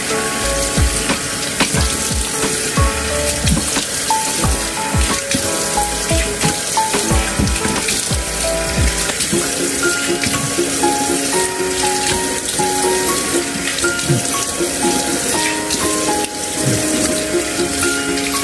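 A faucet runs into a sink while something is rinsed out during a morning routine, a loud continuous splashing stream with clinks and shifting tones throughout, and no voices.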